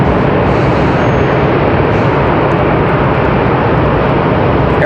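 An Embraer E190LR airliner waits at the end of the runway before departure at Raleigh Durham airport, its engines making a loud, steady, unbroken roar with no pauses or talk.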